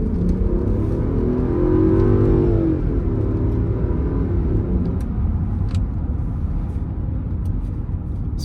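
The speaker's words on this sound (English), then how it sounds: "We'll do a little acceleration run here just to kind of show that it goes through the rev range without any kind of stumbles" Range Rover L322 accelerating hard in sport mode, a loud steady engine drone with a rising whine that climbs through the revs over the first few seconds, then settles into a sustained rumble and road roar with no voices.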